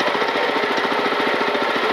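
A mini power tiller engine runs close and loud, a rapid steady chugging pulse with a harsh mechanical clatter and no pauses.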